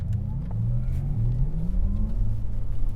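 Porsche Taycan Turbo S, a 2021 electric car, launching hard from a standstill at a driving experience center, with a rising electric whine and low rumble building steadily, close and fairly loud.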